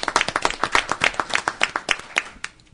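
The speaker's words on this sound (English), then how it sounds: "applause for Cody Miller" Hand clapping from attendees at a city commission meeting, a quick burst of sharp claps that thins out and fades within a few seconds.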